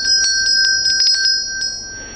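A small ritual hand bell rung with the wrist, giving a series of bright, shimmering metallic strikes in uneven rhythm, about a dozen hits with sustained ringing overtones, close and fairly loud with no talking.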